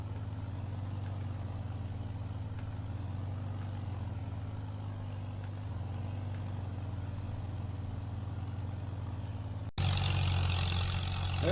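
Allis tractor engine in Farming Simulator 25, a low steady diesel drone running continuously and evenly, becoming louder and brighter in the final seconds.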